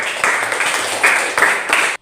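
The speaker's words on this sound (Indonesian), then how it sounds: "Tepuk tangan." Applause from a group in a classroom, right after a student teacher's lesson on Indonesian youth and independence: a dense wash of hand clapping with a few stronger surges, close and steady, stopping abruptly.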